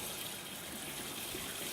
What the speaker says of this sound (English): Fill your sink up with steamy hot water.